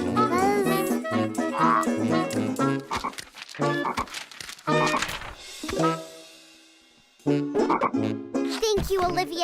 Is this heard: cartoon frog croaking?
yes